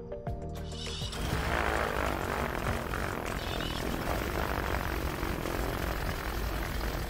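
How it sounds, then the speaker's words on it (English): A Windracers Ultra, a self-flying twin-engine fixed-wing aircraft, drones steadily and loudly overhead, its propeller engine noise filling the scene after a brief quieter start. "the self-flying aircraft, the Windracers Ultra, a dependable twin-engine fixed-wing aircraft"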